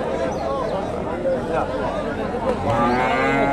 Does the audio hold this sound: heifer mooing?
yes